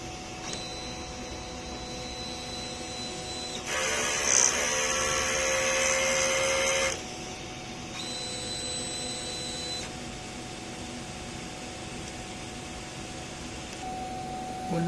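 A DTF printer runs its print head cleaning cycle, with steady motor whirring, a louder pumping or spinning stretch in the middle, and a few changes in the mechanical tone, all close and without voices.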